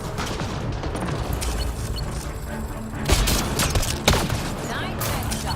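Dense gunfire and explosions in the video game Mass Effect Andromeda, a continuous barrage of shots with a couple of heavier bursts, heard under game speech.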